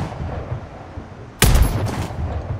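A sniper rifle shot from the video game Sniper Ghost Warrior Contracts lands a headshot: one sharp, loud crack with a booming tail that rings out over a low, rumbling game ambience.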